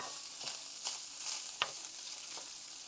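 Hamburger meat frying in a pan gives a quiet, steady sizzle, broken by a few soft scraping stirs and one sharper tap.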